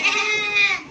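A goat, likely a nanny from a Rajanpuri herd kept with kids, gives one loud, close, quavering bleat lasting about a second, with nothing else heard.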